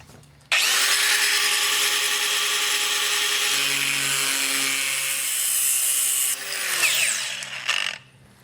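A power tool cuts through material during a garage cabinet installation, a loud, close, harsh whine that starts abruptly, holds steady for about six seconds, then wavers and winds down.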